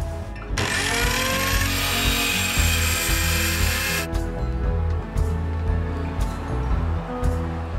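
A table saw cuts through plywood sheets during a Toyota 4x4 camper van build, the blade spinning up loudly with a steady high whine and a continuous roar that runs on after the cut.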